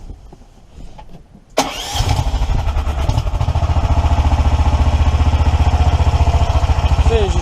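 A Predator 420cc engine fitted to a 1982 EZ-GO three-wheel cart cranks and catches after a quiet start, then settles into a loud, steady, rhythmic idle that continues to the end.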